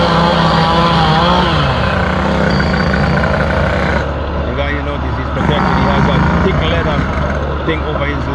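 A chainsaw cuts timber on a hot construction site, its loud, rough engine snarl running continuously up close, the pitch shifting as the blade bites.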